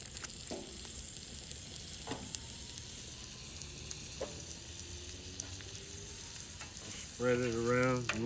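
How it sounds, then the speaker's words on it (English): Butter sizzling on a Blackstone griddle, a steady soft frying hiss that runs throughout with a few light clicks, and a brief louder scraping sound near the end. "Gonna take some butter, put down on the griddle area."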